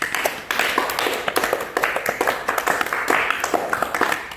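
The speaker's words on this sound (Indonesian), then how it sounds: "kita beri tepuk tangan untuk kelompok 1" A classroom of students claps for group 1, a fairly small group of hands producing distinct, brisk claps in uneven bursts that stay loud and near.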